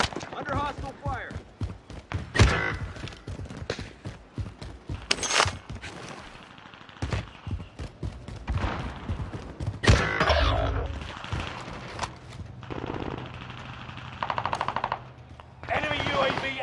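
Automatic gunfire rattles through a first-person shooter video game match, with dense bursts, single shots and mechanical clanks throughout, under in-game voice callouts and a player talking.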